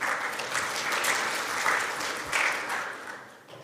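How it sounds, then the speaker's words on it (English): An audience at a team meeting breaks into a round of applause, a dense crackle of many clapping hands that swells twice before tapering off near the end. "Round of applause, please"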